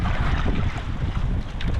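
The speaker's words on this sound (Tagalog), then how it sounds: "Sobrang lakas ng amihan eh." Strong amihan monsoon wind buffeting a small boat off an island at sea, a steady loud roaring rush with heavy microphone wind noise and no voices.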